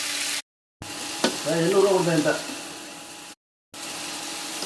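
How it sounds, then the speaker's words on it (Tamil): Tomato sizzles in a pan, a steady, moderate hiss that cuts out briefly twice, while a voice hums or speaks over the middle of it. "தக்காளியை போட்டு தக்காளியை வதக்கி எடுத்துக்கலாம்"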